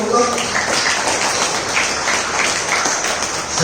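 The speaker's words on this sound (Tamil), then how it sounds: "அப்போ எல்லாருக்கும் நல்லா ஜோரா கைதட்டுங்க." A church congregation at Sunday Mass at St. Anthony's claps hands in a steady, dense wash of applause that fills the room, with voices mixed in beneath it.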